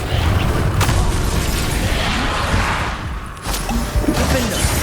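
Explosive Confringo spell blasts in Hogwarts Legacy during a wizard battle, loud dense booms and crashes layered over continuous combat noise, with a brief dip before the fighting resumes.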